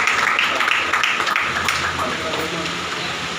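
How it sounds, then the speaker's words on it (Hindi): Congregation clapping to welcome worshippers at a new church opening in Badroya, Himachal Pradesh: dense, steady applause from many hands close by, slowly fading. "ताली बजाएं सबसे परमेश्वर के बच्चों का स्वागत करते दिल से"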